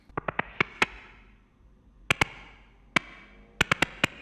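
Percussive Ableton Operator preset synth: bright, clicky plucked tones struck in small quick clusters, a few rapid hits then a pause, each with a short ringing tail, close and clear without any voice.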